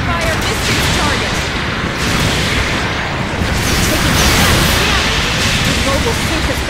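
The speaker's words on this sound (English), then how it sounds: "Long-range support fire incoming" Long-range support gunfire in a mobile suit video game, a dense, continuous roar of overlapping bursts and booms that stays loud and steady throughout.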